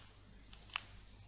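Two quick, faint keystrokes on a computer keyboard, the L key and then Enter, spaced a fraction of a second apart in a quiet room.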